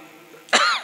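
A single short, sharp human cough, close and fairly loud, set against a quiet background during a religious sermon.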